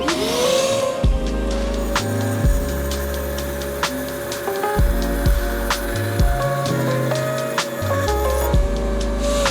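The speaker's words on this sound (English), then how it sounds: "I'm gonna bring it over to the bandsaw and we're gonna shave it down" A bandsaw shaves down a block of styrofoam, its steady motor hum broken by repeated short cutting passes and pauses, loud and close with no talking.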